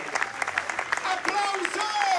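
An audience claps steadily in a dense patter at an outdoor trial bike show in Marina di Ragusa, while a voice speaks over the applause.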